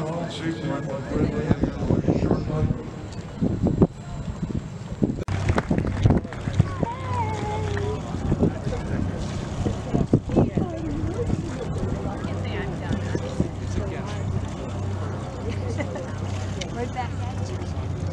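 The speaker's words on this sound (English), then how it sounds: "The boats are backing off on the seaport." Boats move along the water during a boat parade at Mystic Seaport, a steady low rumble with wind noise on the microphone and people talking over it throughout.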